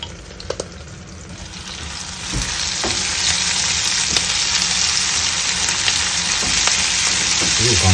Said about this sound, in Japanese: もうちょい炒めます